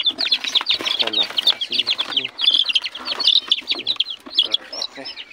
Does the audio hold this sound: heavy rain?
no